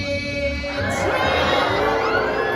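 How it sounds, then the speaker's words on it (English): A large audience at Monsters Inc Laugh Floor in Magic Kingdom screams and shouts loudly together, a sustained roar of many high voices that swells and holds. "your job is to throw your hands in the air and to scream really loud"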